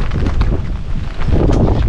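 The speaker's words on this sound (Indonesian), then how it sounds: "Ngomong angin ini gede banget guys" Strong storm wind in a Japanese village roars and buffets the microphone steadily, loud and close, with gusting swells and no clear voices.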